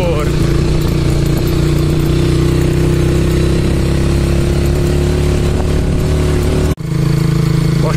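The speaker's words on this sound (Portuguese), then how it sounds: "dirigindo a chebeca só com uma mão e a outra acelerando" A motorcycle engine runs loud and close with a steady droning, buzzing tone under throttle, then cuts out abruptly for a moment near the end before resuming.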